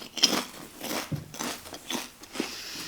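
Someone eats crisps, giving a few brief crunchy bites and chews. They are close and fairly quiet against a soft room background.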